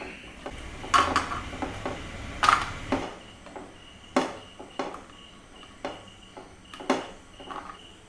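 Fried cashews are scooped out of hot ghee in a pan for rava kesari, a series of sharp metallic clinks and taps from the spoon against the pan, spaced irregularly, close and unaccompanied by talk.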